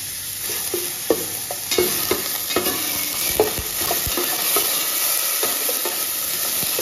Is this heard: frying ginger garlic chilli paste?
yes